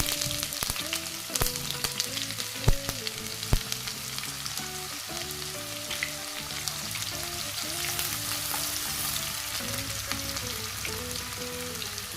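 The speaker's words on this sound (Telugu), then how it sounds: "ఆయిల్ వేడెక్కింది కదా ఇప్పుడు పోప్ బీన్స్ వేసుకుందాం" Pop beans and chopped vegetables hit hot oil in a pan for cabbage fried rice, giving a steady close sizzle with faint clinks and stirring scrapes throughout, and no one speaking.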